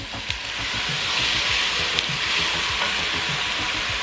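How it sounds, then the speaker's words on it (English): Red pepper flakes and oil sizzle steadily in a hot pan while a utensil scrapes and stirs in a quick, irregular rhythm, close and fairly loud, with no voices. "Just give that a stir."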